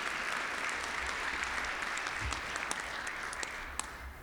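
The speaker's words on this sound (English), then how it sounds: "Let's give all of our Rotarians with birthdays a round of applause." Rotary club members at a meeting applaud for birthday members, with sustained mid-distance clapping and a few sharper individual claps that thin slightly toward the end.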